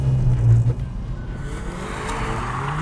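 A Hyundai i30N hatchback is pushed hard into a corner, engine droning low while the tyres squeal and scrabble as the front wheels spin, the squeal rising toward the end.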